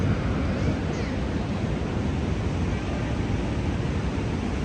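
A constant, broadband wash of water pours over a river weir in Munich, heard up close as an unbroken rushing roar at a steady volume throughout.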